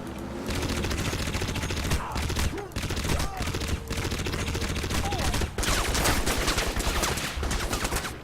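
Rapid bursts of rifle fire from the 2007 video game Crysis ring out loud and dense, in near-continuous volleys with a few brief pauses between strings of shots.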